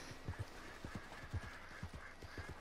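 Horse hooves clip-clop in a steady trotting rhythm in Red Dead Online, quiet and even, over soft game ambience with no talk.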